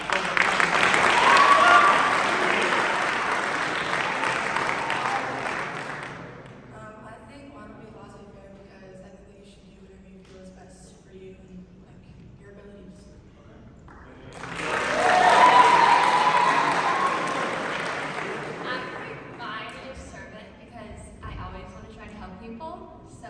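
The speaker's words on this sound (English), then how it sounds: "You guys are probably going to clap." An audience at a university MLK Day presentation breaks into loud applause twice, each burst lasting several seconds before fading, with a speaker talking quietly in the gaps between them.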